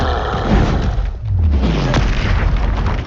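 The Expelliarmus disarming spell cast in Hogwarts Legacy, a loud, dense rumbling blast with a low swooping whoosh that dips briefly and then swells again, filling the whole moment with heavy boom.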